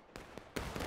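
A musket volley in the Civil War game War of Rights, with several sharp distant cracks in quick succession, then a louder ragged burst of shots at the end.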